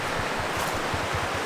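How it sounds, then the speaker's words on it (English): Mountain creek tumbling over small waterfalls along a forested trail among rhododendrons, a steady close rushing and splashing wash that stays even and unbroken. "Just small waterfalls here and there."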